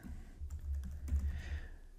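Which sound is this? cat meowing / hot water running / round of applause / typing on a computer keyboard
typing on a computer keyboard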